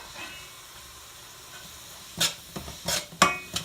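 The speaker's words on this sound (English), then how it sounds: "Now I'm going to add the ochroes" Finely chopped okra, a little over a cup, tipped into a pot of vegetables cooking for Trinidad coucou, with a couple of sharp clattering bursts and a stir after a quiet stretch of faint background hiss.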